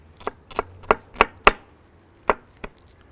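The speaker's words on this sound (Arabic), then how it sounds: "نص البصله اقطعها صغير يبقى في التتبيله" Half an onion diced small with a knife on a board for a fish marinade: seven crisp, distinct chops at an uneven rhythm, close and clear with no talk.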